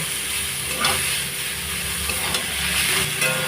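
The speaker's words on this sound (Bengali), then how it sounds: "এবার এগুলো ভালো করে নাড়াচাড়া করে নেব" Pumpkin greens chachchari with lentil fritters is stirred in a hot pan, a steady close sizzle with soft scraping turns and no voices.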